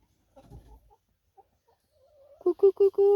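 A rooster gives a few soft, scattered clucks, then breaks into a short run of loud, close, harsh calls near the end, with no speech.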